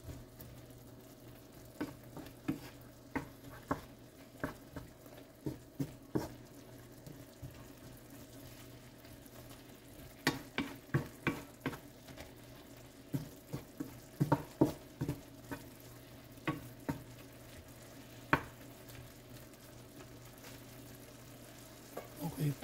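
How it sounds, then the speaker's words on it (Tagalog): Beef for tapa boiling and sizzling in a pan: steady sizzling with a low simmering hum, punctuated by repeated sharp clacks of stirring or scraping, fairly quiet and close. "Ayan, kumukulo na siya."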